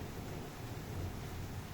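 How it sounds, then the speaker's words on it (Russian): Storm thunder rolls as a constant low, droning rumble, steady and unbroken like a distant aircraft, with a soft wash of fading rain over it. "Сейчас чуть-чуть дождичек стихает, но гром не стихает."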